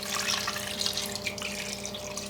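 Liquid sauce splashes and trickles steadily over food in a crock pot, a close, continuous pour with no one talking.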